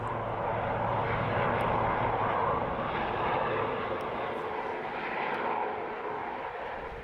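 A VH-3 helicopter's steady engine roar and whir hangs overhead in Washington, D.C., loud and continuous, slowly fading a little toward the end.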